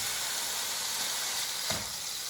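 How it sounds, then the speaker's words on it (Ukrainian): Homemade burger patties sizzle steadily in a pan, a dense close hiss that holds at an even level throughout, with one brief louder spit near the end. "А поки готуються наші котлетки на бургери"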